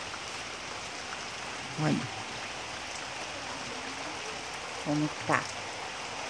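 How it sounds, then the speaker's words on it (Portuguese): Afternoon rain falls steadily on a country farm in Brazil, a soft, even wash of drops running under the whole stretch, while someone speaks briefly a couple of times over it. "E a chuva, tá chovendo, choveu a tarde inteira, tá tudo úmido."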